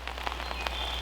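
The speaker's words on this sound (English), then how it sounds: "So it's still sprinkling. You can probably hear under the umbrella here." Light rain sprinkles onto an umbrella in a garden, a close, steady patter of scattered drops with a low hum underneath.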